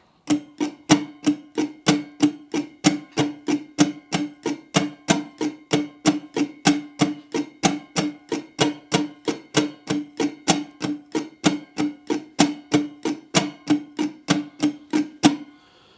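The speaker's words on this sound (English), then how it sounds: "just mute the strings, focus on your strumming for a moment." Muted Irish bouzouki strings are strummed in a steady, even jig rhythm, a long run of dull percussive strokes at an unchanging pace with no talking.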